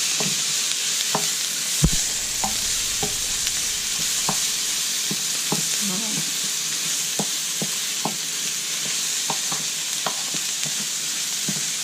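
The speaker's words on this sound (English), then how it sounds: "just put everything in and saute that up along with the onions" Onions sautéing with browned ground beef in a pan for picadillo, a steady bright sizzle with spoon scrapes and taps against the pan every second or so, alone without talk.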